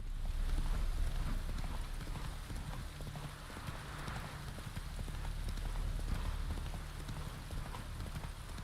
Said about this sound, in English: I'm gonna leave this useless horse here.